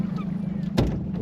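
Boat on the Volga river: a steady low engine hum runs throughout, with a brief louder whoosh of wind or water near the end.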